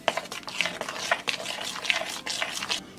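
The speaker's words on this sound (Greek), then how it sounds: "Και όλα αυτά τα ανακατεύω ώστε να γίνει ένα ομοιόμορφο μείγμα" A spoon stirring a batter mixture with cocoa in a bowl, giving a steady, close scraping and swishing with light clinks against the sides, quiet and continuous without speech.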